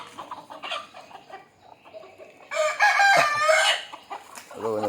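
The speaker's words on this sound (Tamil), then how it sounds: "திறந்து விட்ட உடனே கோழியில் சண்டை தான் ப்ரோ போடும்" Native country chickens let out of a coop squabble and fight, with close clucking and agitated cackling that build into a loud burst of squawks near the middle, then settle back to clucking.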